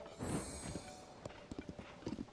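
Horse hooves clip-clop in the Zelda: Tears of the Kingdom video game, a string of soft, evenly spaced thuds at walking pace after a brief swell of background music, fairly quiet and close.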